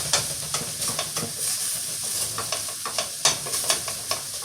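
Chicken for empanada filling sizzles in a pan as it is broken up and stirred, with quick spatula clacks and scrapes over a constant hiss of frying, close and fairly loud.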